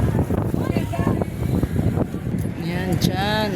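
Wind buffeting a phone microphone on the Esplanade, a continuous low rumble under casual talk among several people, with a brief whistle-like sound near the end.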